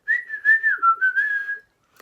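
A person whistles a clear, sustained wavering melody for about a second and a half, close and alone, with a faint click just after it stops.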